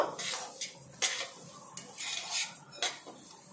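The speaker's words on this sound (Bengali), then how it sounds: "কড়াইয়ের মধ্যে ডালটা দিয়ে দিচ্ছি। ডালটা ভালো করে একটু লাল লাল করে ভেজে নেব।" Mung dal being dry-roasted in a hot wok, with dry clattering and scraping of a spoon against the metal in short irregular bursts, close and fairly loud.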